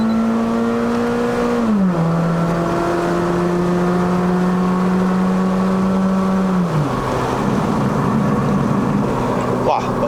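A remapped 2009 Honda City GM2 1.5E pulls hard in a 0 to 100 km/h run, its engine note rising loudly from inside the cabin. The pitch drops sharply at each of two gear changes before climbing again.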